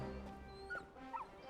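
Torgal, a puppy in Final Fantasy XVI, gives faint, brief whimpers and soft yips, two short high cries over a quiet background hum.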